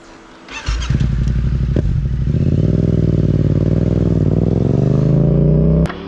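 A street bike engine catches and revs hard as the clutch is dumped for a wheelie, holding a loud, steady roar that climbs gradually before cutting off at the end, close by and without speech.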